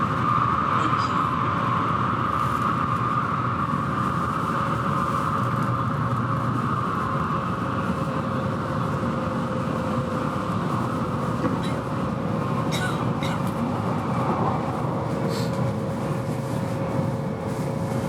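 A Tokaido Shinkansen N700 series Nozomi bullet train runs between Shinagawa and Shin-Yokohama, heard from inside the car as a continuous loud rumble and whine of motors and rails, steady throughout.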